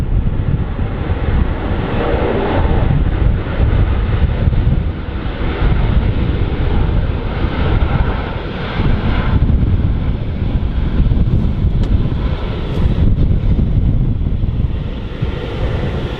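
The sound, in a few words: Azerbaijan Airlines airliner landing at Manchester Airport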